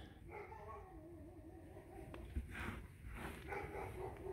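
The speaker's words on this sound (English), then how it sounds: "What is wrong with people that can't tell the dog to be quiet?" A dog barks off in the distance, a few faint yaps and whimpers over a low steady background rumble.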